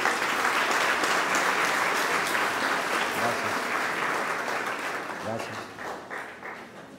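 Congregation applauding loudly and steadily during Sunday Mass, a dense sustained clapping that gradually fades toward the end, with some voices mixed underneath.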